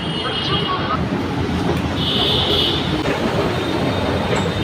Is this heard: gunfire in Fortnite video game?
no